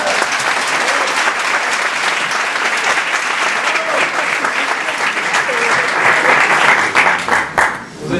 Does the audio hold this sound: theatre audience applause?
yes